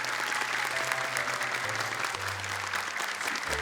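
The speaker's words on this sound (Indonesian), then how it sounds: "Ayo, boleh tepuk tangan untuk mereka." A studio audience at an Indonesian television show claps steadily in a dense, continuous burst of applause, with faint music tones underneath.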